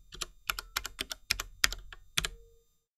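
Fast bursts of typing on a mechanical keyboard with tactile switches, crisp close keystrokes in irregular clusters of about a dozen presses, then stopping.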